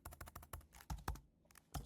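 Rapid typing on a computer keyboard while text is entered into input fields, close and clear, with irregular bursts of clicking keystrokes and a short pause partway through.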